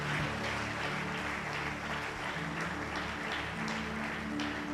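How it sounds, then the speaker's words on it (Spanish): A church congregation applauds at a Spanish-language worship service, a steady wash of clapping that fills the whole stretch at moderate loudness with no talk over it. "¿Cuántos le dan un aplauso fuerte al Señor?"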